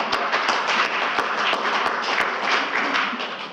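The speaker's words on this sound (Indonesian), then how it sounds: "Persnya udah ikut tepuk tangan tadi, Bu." An audience at the closing of the PDIP national working meeting claps in dense, steady applause that holds throughout. A few louder, sharper claps stand out above the crowd.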